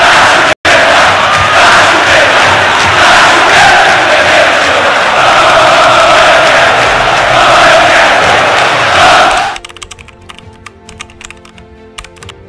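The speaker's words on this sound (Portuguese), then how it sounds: "E a torcida do Flamengo agora definitivamente toma conta do Maracanã." Flamengo supporters fill the Maracanã stadium with a loud, sustained crowd roar and chant for about nine seconds, then it cuts off abruptly to near silence.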